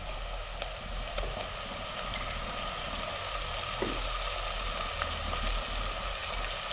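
Ginger garlic paste frying with onions in a pan, a steady crackling sizzle with scattered pops running continuously at moderate loudness.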